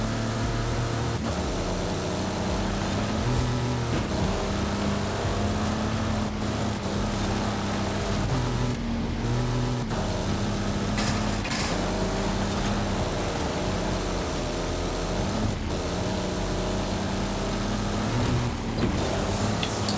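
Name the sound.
car engine in a video game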